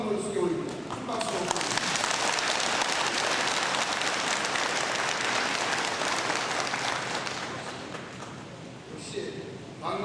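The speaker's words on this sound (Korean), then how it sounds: "큰 박수." A hall crowd at a Saemaul movement gathering in Gwangmyeong bursts into dense, sustained applause for around eight seconds after a guest is introduced, filling the space before easing off.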